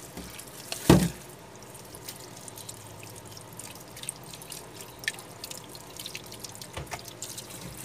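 Sea centipedes being rinsed under running water in a kitchen sink: one loud splash early on, then faint drips and trickling water.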